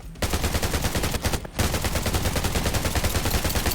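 Rapid bursts of automatic gunfire in the video game Undawn rattle almost continuously, loud and close, with a brief gap before resuming.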